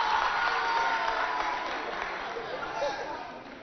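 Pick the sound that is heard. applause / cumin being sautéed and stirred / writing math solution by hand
applause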